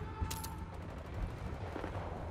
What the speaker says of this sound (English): Oh yeah, somebody shooting at me.